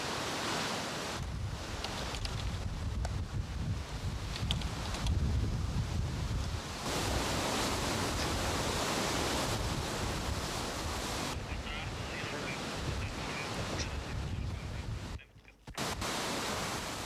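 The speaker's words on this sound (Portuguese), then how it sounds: "o mar que também entrou pela marginal adentro" Stormy sea waves surging over and flooding the Ribeira Brava seafront promenade in Madeira during severe weather in February 2010, a loud continuous roar of surf with heavy wind buffeting the microphone, briefly cut near the end.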